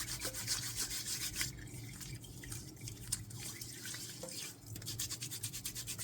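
Hands being scrubbed with a gritty hand scrub, a steady close rubbing and swishing sound with moist, wet texture, moderately quiet and continuous, with no talking.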